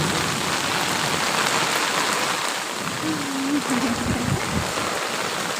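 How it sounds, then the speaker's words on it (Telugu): Heavy rain pours down steadily in a dense, continuous hiss, loud and close throughout. "వర్షం వర్షం పెద్దది పడుతుంది"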